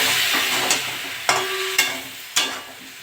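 Prawn and banana-potato curry stir-frying in a pan, a steady close sizzle with a few scraping stirs of a spoon marking the rhythm.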